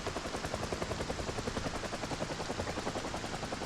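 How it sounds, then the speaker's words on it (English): Helicopter in the video game Project Zomboid, a steady, rapid rotor thumping that pulses evenly throughout at moderate loudness, with no voices over it. "if you see the heli in your game of Zomboid"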